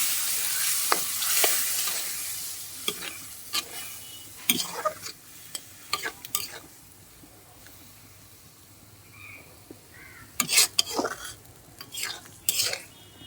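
Dried loitta fish curry simmers in a pan with a soft sizzle, while a spoon scrapes and stirs in scattered sharp clinks and knocks at close range.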